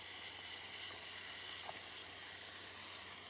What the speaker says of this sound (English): We're just going to put in our mushrooms and our apricots with flavours